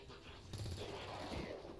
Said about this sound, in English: Let's see if we can kill this guy with our SMG.